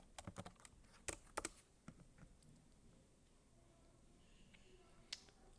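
Someone types on a computer keyboard in a quiet room: a quick cluster of soft, close keystrokes, then scattered single taps over a faint steady background.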